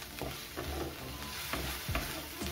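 Thick ground spice paste stirs and fries in a pan over low heat for a vegetarian Bengali potol dish, a steady close sizzle broken by several soft scraping strokes of the spoon.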